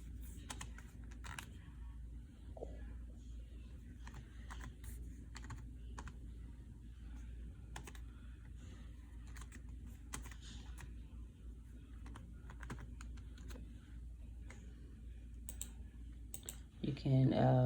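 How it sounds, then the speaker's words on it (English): Computer keyboard typing while entering a business name into a label design layout, a steady stream of light clicks throughout against a low background hum, with quiet talk present. "Say you want to type in your business name or whatever you'd like to type in right there."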